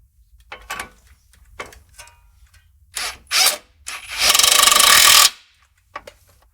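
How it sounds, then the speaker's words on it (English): Ratchet and power tool tightening the tie rod end on a Ram 1500 during a Bilstein 6112 shock install, heard as short clicking bursts and then a loud sustained run of an impact tool up close. "we're going to go ahead and tighten up the tie rod end"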